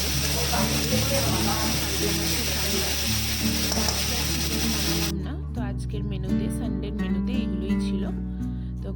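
Onion, garlic and ginger sizzle loudly in hot oil with whole garam masala. The steady frying hiss drops in character partway through as the mixture is stirred, and music plays underneath.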